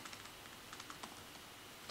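Quick, light clicks of keys on a computer keyboard as a shortcut like Ctrl+T is pressed, a few soft taps scattered over a faint background hiss.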